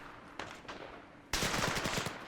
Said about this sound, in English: Where are the enemies firing at?